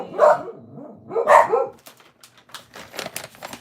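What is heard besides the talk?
dog barking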